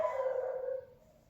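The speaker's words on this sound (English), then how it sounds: "Yes, there is dogs here." A single dog lets out a drawn-out howl that is close and fairly loud, fading gradually over about a second with no other sounds.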